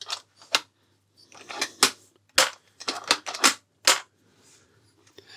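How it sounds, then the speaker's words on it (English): An AGT Uragan 2 air rifle dry-fired in a safe direction gives a handful of sharp, close mechanical clicks and snaps spaced irregularly over a few seconds, with quiet gaps between them. "we're going to dry fire the rifle in a nice safe direction"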